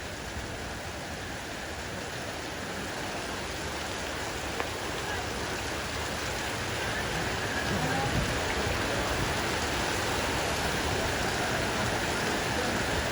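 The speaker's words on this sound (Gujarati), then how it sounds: "ચોટીલામાં ચામુંડાના ગામે જોરદાર વરસાદ" Dense, continuous roar of heavy rain pouring down in Chotila, steady and loud throughout, with a faint voice now and then.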